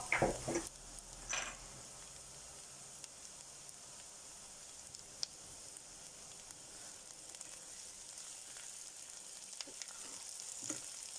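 Garlic frying in a pan for a Portuguese bean stew, giving a steady, quiet sizzle throughout with a couple of brief louder stirring clatters near the start and soft scattered clicks.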